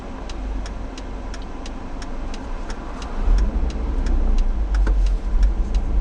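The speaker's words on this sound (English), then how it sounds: "We're in a traffic jam." Cars idle and creep along in stop-and-go traffic jam, a steady low engine rumble heard from inside a vehicle, with a rhythmic faint ticking like a turn signal and a slight rise in engine noise midway.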